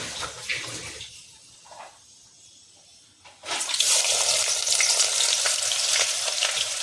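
Fenugreek seeds fry in oil for an egg and potato curry, starting with a softer crackle, then after a short lull bursting into a loud, dense, continuous sizzle.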